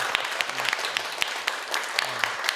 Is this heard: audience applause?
yes